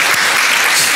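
A church congregation claps for a four-man male choir during a Sunday worship service, a loud, dense burst of applause filling the hall.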